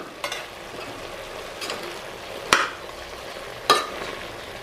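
Ginger garlic paste sizzles in hot oil in a pan, a steady close hiss broken by a few sharp clacks of a spoon stirring it.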